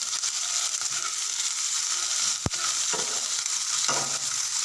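Garlic and ginger paste sizzling in a pan as it is stirred, a steady close frying hiss broken by a sharp scrape or knock of the spoon partway through.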